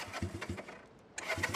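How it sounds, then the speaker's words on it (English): A 1975 Honda CB200T motorcycle cranks on its electric starter with a few rhythmic chugging pulses, pauses briefly, then catches and begins to run, close and fairly loud. "Electric start."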